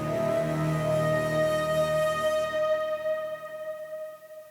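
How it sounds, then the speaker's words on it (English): A single sustained flute note rings out, steady and clear, fading gradually toward the end. "Nothing special, honestly. It's just a flute."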